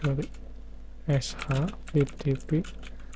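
A command is typed on a computer keyboard at a network switch command line. Short bursts of close key clicks sit under a voice making short vocal sounds.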